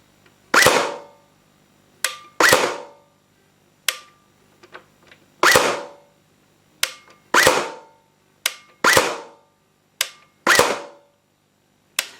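A Tokyo Marui AA12 airsoft shotgun, an electric AES replica running on a 7.4-volt battery, fires in semi-auto: about ten sharp, loud snapping shots spaced irregularly roughly a second apart, each with a short rattling tail, with silence between.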